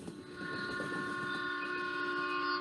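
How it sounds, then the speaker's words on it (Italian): A small regional train runs steadily through Abruzzo toward Gran Sasso National Park, a continuous close rumble of wheels and carriage with sustained tonal whine from the rails, no voices over it. "E sarà questo rumore del treno che torna e mi fa sopire sui miei pensieri"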